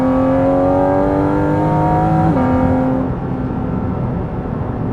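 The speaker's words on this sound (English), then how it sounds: "just the downshifts. Like I've got a pack of angry wolves barking in the back of the car." Porsche 718 Cayman GT4 RS flat-six engine on a wet road, revving hard with rising harmonics, then a sharp downshift blip around the middle, settling into a steady loud drone with no talk.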